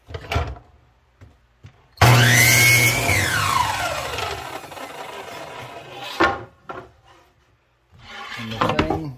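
A chop saw spins up loudly and slices through a wooden fence picket at a 45-degree angle, its whine sliding down as the blade winds down, with handling knocks before and after.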